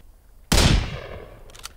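A single sharp, loud gunshot rings out in the Sons of the Forest survival game and decays slowly into a rumbling tail, with a faint second click or shot near the end.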